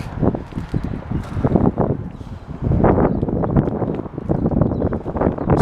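Wind blowing outdoors around a commercial community center building, buffeting the microphone in rough, uneven gusts that rumble low and loud throughout.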